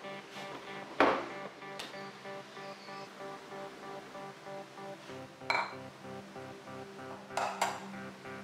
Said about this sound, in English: Breaking in eggs.